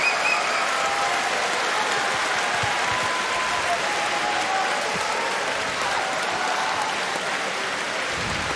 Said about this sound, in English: That big cheer that you just heard there was, oh no, on the other mat.